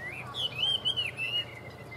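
Chinese hwamei songbird, a prized fighting and show bird, sings clear whistled phrases that rise, fall and warble in a continuous run over a low steady background hum.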